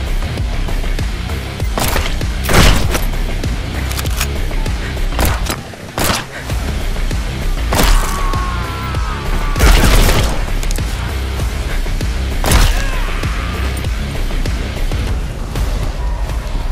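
Gunfire from enemies in the action video game Acts of Blood, sharp loud bursts and shots going off repeatedly and irregularly, with mechanical clatter and combat noise between them.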